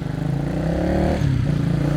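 Single-cylinder engine of a Benelli Motobi Evo 200 motorcycle fitted with a cheap aftermarket Akrapovic-style muffler, revving steadily up close with a throbbing, pulsing exhaust note and a brief dip midway.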